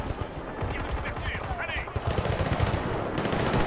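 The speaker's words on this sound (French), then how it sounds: "J'ai envie d'essayer le flingue de base." Rapid gunfire from a basic pistol in Battlefield Bad Company 2 rattles in quick, dense bursts amid other battle noise. A voice talks underneath.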